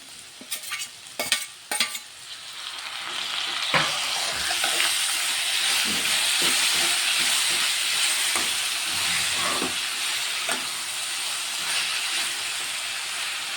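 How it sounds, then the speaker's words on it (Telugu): Chutney ingredients and chopped tomatoes fry in a pan, a constant close sizzle, preceded by a few sharp clatters and then scattered stirring scrapes. "ఇదైతే కొంచెం మంచిగా ఫ్రై అవుతుంది. ఇలా కట్ చేసుకున్న ఈ 2 టమాటాలు తీసుకున్నా, ఇవి కూడా వేసేద్దాం."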